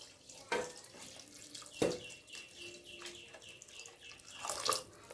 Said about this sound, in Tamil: ஸோ அதையே வந்து நாமே இதில் ஊற்றிக்கலாம்.